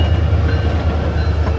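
A train rumbles past near Oceanside, a loud, steady low roar with faint rattling, continuous for the whole moment.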